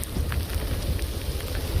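Rain falls steadily outdoors along a roadside route in Nayagarh, a dense, even patter of drops with a low rumble underneath and no voices.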